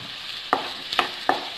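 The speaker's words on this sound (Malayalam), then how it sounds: "ഇനി തക്കാളിയും കൂടെ ചേർത്ത് ഇത് നല്ലപോലെ ഒന്ന് വെന്ത് വേണം." Tomatoes frying in biryani masala give off a steady sizzle in the pan, cut by three brief, sharp stirring scrapes spaced about half a second apart.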